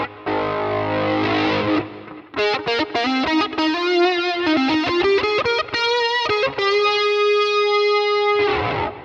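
Electric guitar played through a Fuzz Face pedal into a Deluxe Reverb amp gives a thick, distorted fuzz tone in loud sustained notes and quick choppy phrases, ending on a long held note.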